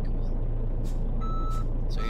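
A truck in Euro Truck Simulator 2 reverses with a steady diesel rumble, and a few spaced reversing beeps sound above it, loud and near. A faint air brake hiss comes in briefly.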